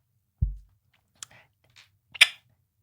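A voice imitates a door clicking, with a low thump followed by a few soft mouth clicks and a sharper click-and-hiss near the end, close and quiet, with no other talk.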